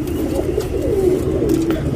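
A tournament racing pigeon coos softly, low rolling calls repeated against a steady background murmur, close to the listener.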